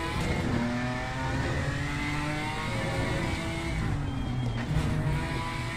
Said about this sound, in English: Love the downshifts. You hear them downshifts?